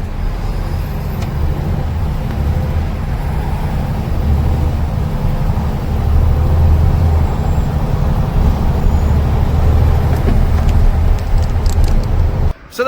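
Inside the cab of a new 2024 transporter truck with a ZF automated gearbox, the engine gives a steady low drone and road rumble that swells slightly partway through, then cuts off abruptly at the end.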